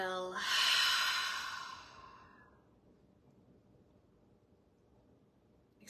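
A deep exhale through the nose during a yoga session, one long breathy rush that swells quickly, fades over about two seconds and leaves near silence.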